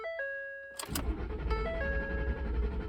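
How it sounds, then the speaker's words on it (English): A 2012 Ford F-150 pickup with a fuel pump relay fault cranks steadily without starting. The dashboard door-open chimes sound first, then the starter grinds on loud and continuous, and the engine never catches. "it just kind of keeps turning over and it doesn't start"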